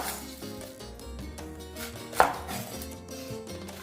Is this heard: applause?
no